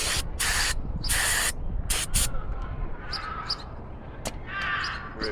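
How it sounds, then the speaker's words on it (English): An aerosol can sprays down the dirty threads of a fuel check valve on a Cutlass 307 engine in several hissing bursts, some long and some short, close up with a few faint knocks and no speech. "let me spray that down too, because these threads are dirty"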